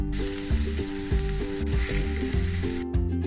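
Onions and raisins frying in sunflower oil for mutton majboos, a loud, steady close sizzle with rhythmic stirring scrapes running throughout, no one talking.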